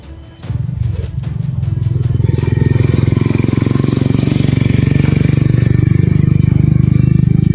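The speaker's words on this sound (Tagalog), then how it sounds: "May motor ka naman dumating" A motorcycle arrives and idles close by, its steady low engine rumble building quickly after a brief quiet start and then holding loud and even to the end.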